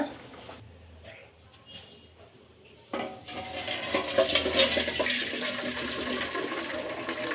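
Hot boiled water drained out of a pan, a steady close splashing pour that starts abruptly after a quieter stretch of faint kitchen clatter and continues strongly to the end.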